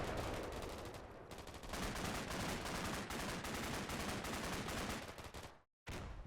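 Sustained area-fire gunfire in the war game Combat Mission: Black Sea, a dense, continuous crackle of rapid shots and bursts that keeps going without pause before a brief cut near the end, fairly faint overall.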